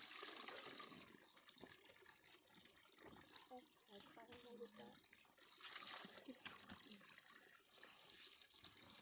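Water is scooped by hand at a rural Lao village water source, with splashing and pouring throughout while voices talk faintly in the background.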